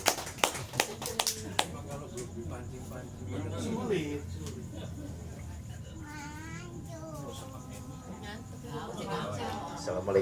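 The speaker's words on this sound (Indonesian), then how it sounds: "Oh, tepuk tangan dulu dong sekali lagi." A few sharp handclaps burst out at a family gathering, close and brief at the start, then give way to low chatter, a voice and room bustle.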